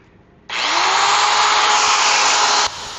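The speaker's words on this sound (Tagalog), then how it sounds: "Nagawa na natin yung grinder." A repaired handheld grinder, its wire fix temporary, whirs up loudly and close, runs at a steady high whine for about two seconds, then cuts off; no one speaks.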